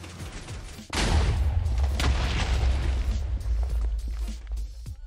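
TNT in Minecraft detonates with a sudden heavy boom, followed by a rumbling cascade of crackling blasts that slowly thins out over several seconds.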